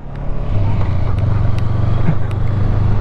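A motorcycle engine runs steadily after winter, idling with a low, even hum that stays close and loud for the whole stretch, with faint clicks on top.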